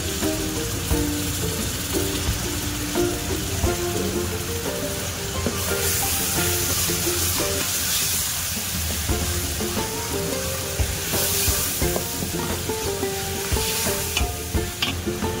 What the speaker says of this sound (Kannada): ಬೆಂಡೆಕಾಯಿ ಪಲ್ಯ ಸೊ ಫ್ರೈ ಆಗಿದೆ. ಟೊಮೆಟೊ ಹಾಕ್ತಾ ಇದ್ದೀವಿ.